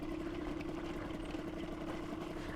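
A two-stroke project motorcycle on its stock ignition idles with a steady, low, buzzing engine note. The hum holds even and close for the whole stretch, with no voices over it.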